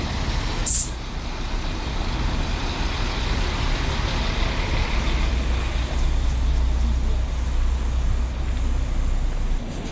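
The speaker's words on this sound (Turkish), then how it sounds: "tur otobüslerinin arkasında tur motoru." Idling tour bus engines at the Hierapolis ancient city site in Pamukkale, running for air conditioning, give a steady low rumble of road-vehicle noise throughout, with a brief sharp transient near the start.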